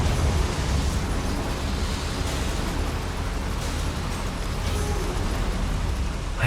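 A Confringo fire spell in the Hogwarts Legacy video game blasts toward boilers, a loud, sustained rumbling roar of fiery noise with faint bursts layered in, and no speech over it.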